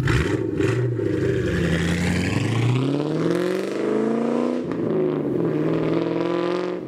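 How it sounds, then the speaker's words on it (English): A Mustang GT with a two-valve V8 revs hard and loud, its deep engine note climbing and falling through several sweeps, then dipping briefly before rising again, with no talk over it. "The 2-valve motor has a very unique yet distinguishable V8 sound"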